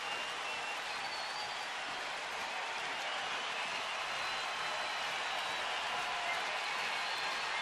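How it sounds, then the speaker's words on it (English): A baseball crowd at a 2009 Cleveland Indians game hoots and hollers with the bases loaded, a steady, dense roar of cheering held at an even level throughout. "This crowd hooting and hollering."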